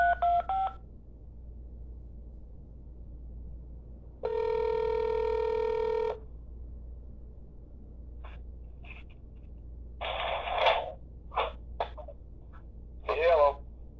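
A telephone call is placed: a quick burst of dialing tones, then a long steady ringback tone, followed by faint clicks and muffled voice fragments from the line.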